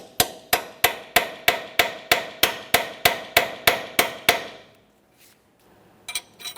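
A hammer taps a T40 Torx bit into a rusted sway bar link stud on a 2014-2019 Toyota Corolla, about fourteen evenly spaced sharp metallic strikes, close and loud, then quiet and a couple of faint clinks.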